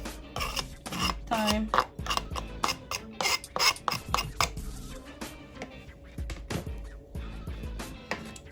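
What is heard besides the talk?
knife cutting up hot pepper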